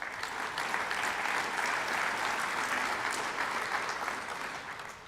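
Sustained applause from the crowd at a Hall of Fame ceremony, a dense, steady wash of clapping that holds evenly before tapering off at the end.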